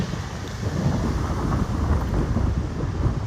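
Strong storm wind in Layton, Utah buffets a phone microphone, a loud, continuous low rumble and roar that swells and eases throughout.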